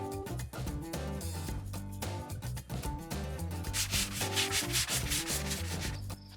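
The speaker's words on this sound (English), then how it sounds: "Let's get started sanding." Sandpaper scrubs across the worn hull of an aluminum boat, a loud, close, steady rasping with quick back-and-forth strokes that grow brighter and harsher toward the end.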